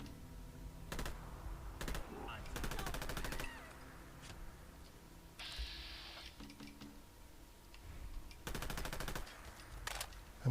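Gunfire in the game Fallout London comes as several short, rapid rattling bursts spaced across a steady low background hum. The shots sound fairly soft and distant, and no speech is heard.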